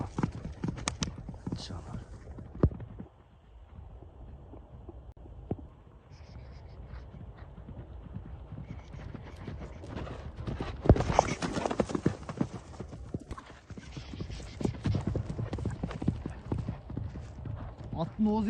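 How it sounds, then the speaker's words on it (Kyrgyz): Horse hooves clip-clopping at a steady walking rhythm, close and fairly loud, with people talking over much of it. "Аттын туяктарын тартып өтөлү."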